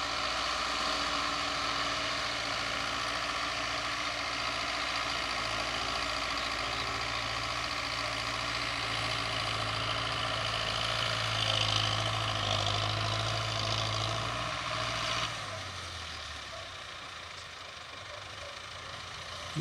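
A Belarus 820 tractor engine runs at a steady low rumble, nearby and continuous, its pitch briefly rising before it drops to a quieter idle near the end.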